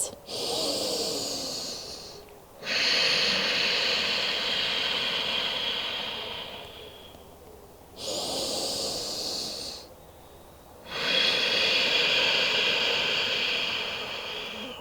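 Deep, slow breaths are drawn during a yoga pose, heard as long, close, hissing inhales and exhales separated by short pauses. A steady rhythm of about four breaths.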